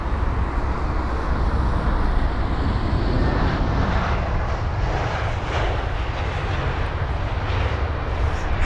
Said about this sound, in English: you can see they're simply tiptoeing with the left main gear touching down before the rest of the aircraft